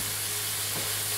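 Minced meat hits a hot pan and sizzles in a brief, steady hiss that stays close and bright without any voices.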